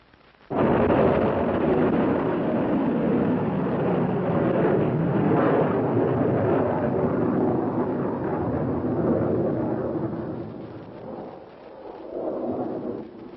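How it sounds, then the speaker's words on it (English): An Army Nike Zeus anti-missile missile blasts off at a launch demonstration, a sudden loud roaring thunder that swells and rumbles continuously, fading slightly then resurging as it climbs away. "Last to be demonstrated was the Army's Nike Zeus, the nation's only anti-missile missile under advanced development."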